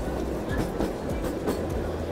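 A toy train ride rolls along with a steady rumbling clatter of wheels on track, moderately loud and continuous with faint rhythmic clicks, no voices.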